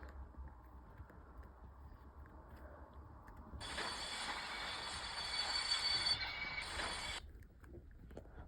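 Diesel passenger train travelling from Lviv, a low rolling rumble with a bright metallic rattling and grinding passage rising in the middle and then dropping away, fairly close.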